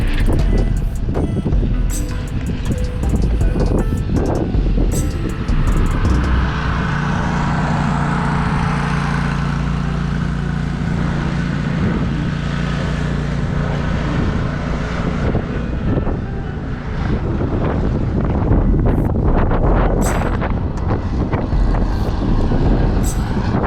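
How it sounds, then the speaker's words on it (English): Heavy wind buffets an outdoor microphone during a wheelie trick session, a loud continuous rumbling roar that lasts throughout with gusty surges and no speech. "Wind does not like me today."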